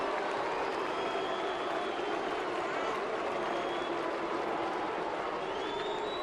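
Crowd at Fenway Park during a Boston baseball game, a steady, dense roar of many voices chanting and cheering at a distance, holding an even level throughout.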